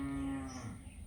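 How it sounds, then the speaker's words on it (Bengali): A cow gives one short, low moo, faint and brief, fading quickly. "গরু ডাকে"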